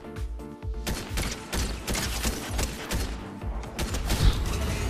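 Rapid bursts of rifle fire crackle repeatedly, loud and close, with sharp cracks and thuds layered over a dense Fortnite game soundscape.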